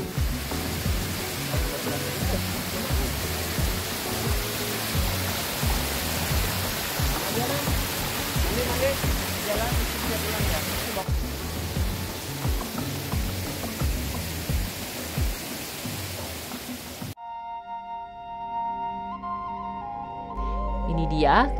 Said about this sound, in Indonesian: Ini dia keindahan air terjun Sri Getuk Gunung Kidul.